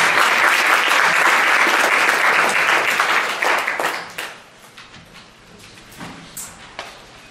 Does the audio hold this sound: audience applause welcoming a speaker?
yes